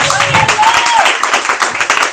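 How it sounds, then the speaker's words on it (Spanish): A church congregation claps together during a service, a brief burst of lively applause with voices calling out over it. "Denle un aplauso al Señor, hermano."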